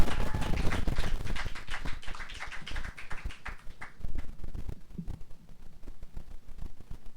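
Audience applause at an outdoor garden open mic, fairly close clapping that is strong at first and then fades into sparse scattered claps.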